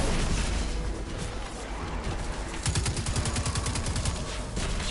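Destiny 2 gunfire, a rapid regular burst of shots in the middle of busy game noise, loud and close, with dense action sound around it.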